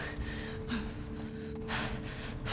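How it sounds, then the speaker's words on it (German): Heavy, gasping breaths from Ellie in the video game The Last of Us Part II, several rough inhales and exhales in steady rhythm over low ambient game sound. "Ellie atmet schon so schwer."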